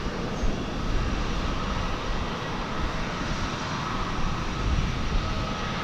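Delta Airbus A220-100 airliner engine spooling up at DFW Airport, a steady, loud broadband roar that holds level throughout with no talk, without a distinct whine standing out.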